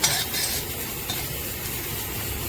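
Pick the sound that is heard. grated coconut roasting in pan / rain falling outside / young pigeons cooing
grated coconut roasting in pan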